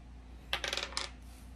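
Dice tumbling across a tabletop in a quick burst of light clicks and rattles, a second short clatter following, close and alone with no talking.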